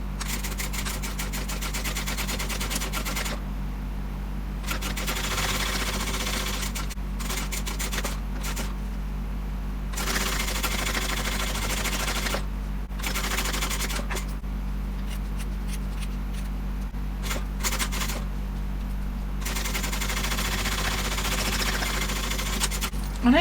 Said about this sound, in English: We're top stitching on this side panel side.